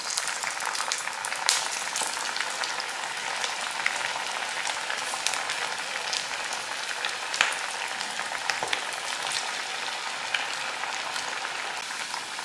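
Potatoes frying crisp in hot oil, a steady dense sizzle and crackle that runs unbroken throughout, with scattered small pops and spits and no talk.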